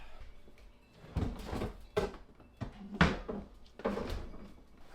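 A back door opens while a Kraus kitchen sink is carried outside. Irregular thuds, rattles and scraping handling noises sound at close range, at moderate loudness.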